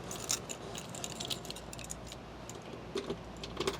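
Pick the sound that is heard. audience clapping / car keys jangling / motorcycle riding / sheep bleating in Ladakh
car keys jangling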